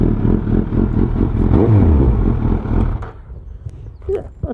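A 2015 Suzuki GSX-S1000 with a Jigsaw aftermarket exhaust starts up close by, a brief loud burst of throaty revving and pulsing idle, then cutting off into quieter rustling and clicks.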